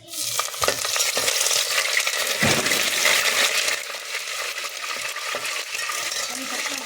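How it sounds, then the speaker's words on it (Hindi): Curry leaves dropped into hot oil for chicken 65 crackle and sizzle loudly and close up, with a sharp burst at the start and a steady frying hiss throughout. "अब डालेंगे कड़ी पत्ता"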